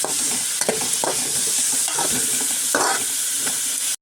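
Carrot greens frying in a pan over a medium flame, a steady close sizzle broken by repeated stirring scrapes of a spoon, cutting off abruptly at the end.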